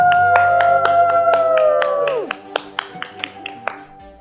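A few people clap in a home kitchen during a cooking show, a loud whistling or cheering tone at first, then sparse, distinct individual claps spaced apart near the end.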